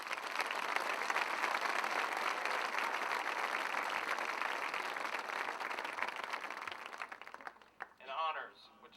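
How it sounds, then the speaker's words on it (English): A high school graduation audience applauds steadily for several seconds, a dense wash of clapping that fades out before a voice resumes speaking. "A round of applause, please."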